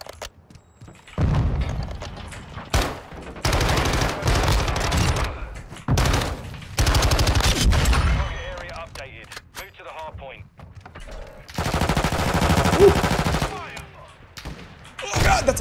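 Rapid bursts of gunfire and heavy impacts from a Modern Warfare 2 multiplayer match, coming in loud clustered volleys separated by short lulls, with people talking over the action.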